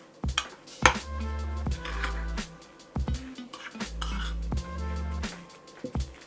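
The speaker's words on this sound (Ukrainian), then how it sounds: "І гарненько перемішую до однорідності" A utensil clinks and scrapes against a bowl while poppy seeds are stirred with sugar and egg white, a run of close, rhythmic metallic taps and rubbing strokes with no talking.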